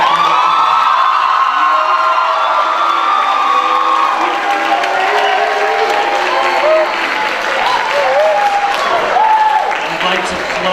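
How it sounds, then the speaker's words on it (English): Loud crowd applause mixed with cheering, whoops and shouting for 2015 high school senior athletes at a college commitment ceremony, dense and continuous throughout. "certainly a round of applause at this time for all of the 2015 Mount Tabor High School senior athletic."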